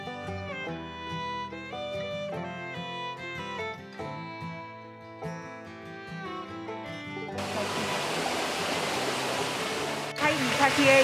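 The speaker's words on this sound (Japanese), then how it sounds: "この水の音を聞いて、心が穏やかになります。" Steady rushing roar of the Mitaki waterfall beside Mitaki Temple in Hiroshima, water flowing year-round, rising in the last few seconds after a stretch of music; constant broadband wash of water, close and fairly loud.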